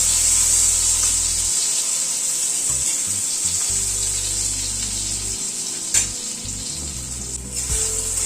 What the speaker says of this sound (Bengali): বেগুনটাও লাল করে ভেজে তুলে নিচ্ছি।